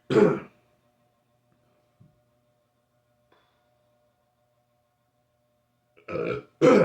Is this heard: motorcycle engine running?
no